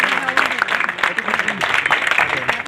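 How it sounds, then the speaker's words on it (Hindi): Loud, dense applause from a crowd welcoming candidate Rao Arti Singh at an election rally. The clapping sounds close and energetic, with voices mingled in throughout the short burst. "एक बार जोरदार तालियों से बहन जी का स्वागत।"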